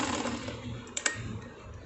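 A sewing machine stitching a 4-inch back elastic onto a handmade bra, a close, soft run of rapid mechanical needle clatter with a couple of sharper clicks midway.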